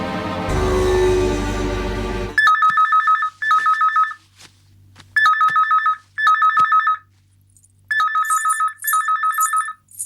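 A telephone rings in a Tamil television serial scene, with repeated electronic double-trill bursts in steady on-off rhythm after a loud opening musical sting, clear and close with no talk.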